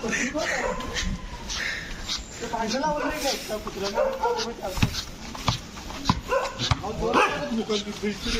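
Several dogs at Querim Beach, Goa, bark repeatedly nearby, surrounding people, sharp irregular yaps overlapping with talking throughout.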